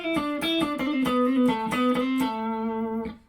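Electric guitar played through effects, a string of picked chord tones ringing with sustained, slightly distorted notes, then a held final note fading out alone.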